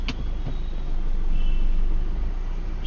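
A cab driver's car in Bangalore pulls over to the roadside, heard from inside as a steady low engine and road rumble that swells slightly midway, with no talk.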